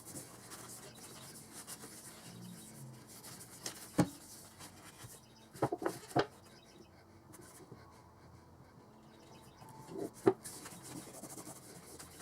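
Soft, quiet rubbing of oil by hand into a wooden Mossberg 500 20-gauge shotgun stock continues throughout, broken by a few sharp taps and clicks, close up with no voices.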